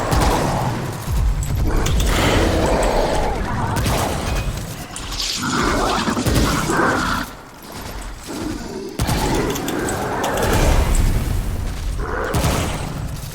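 Gunfire aimed at a boss in the video game Remnant, a dense run of shots and booms that stays loud for most of the stretch, briefly dropping off before resuming.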